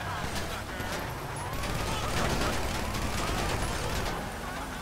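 Revolver gunfire in GTA 5, a dense burst of rapid shots within chaotic game sound, with a siren wailing and someone talking over the top.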